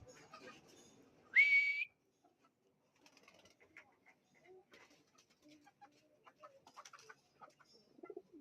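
Pigeons during feeding time, with one sharp loud whistle-like call early, then scattered soft coos, flutters and small rustles in a quiet space.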